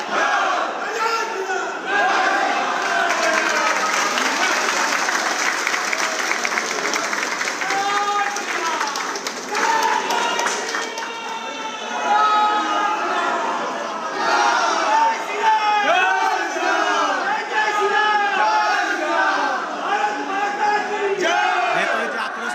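A large crowd chants 'Jai Shri Ram' slogans at Nabanna in West Bengal, celebrating a BJP election win with saffron colour. Dense massed voices shout continuously and loudly for the whole stretch, with cheering and rising surges of chant.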